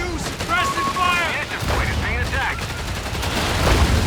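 Bursts of machine gun fire and rattling gunshots in a World War II strategy game battle, the rapid volleys loud and close beneath tonal game sounds and effects.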